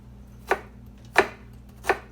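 A knife chops a jalapeno on a cutting board in three crisp, evenly spaced strokes, close and clear with no talking.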